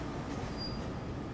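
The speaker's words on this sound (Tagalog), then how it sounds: "Maya-maya lang ay bumabagal na ang takbo ng tren." A train rolls toward a station, giving a steady, dense rumble of wheels on rails with a thin, high squeal drawn out briefly in the middle; no voices.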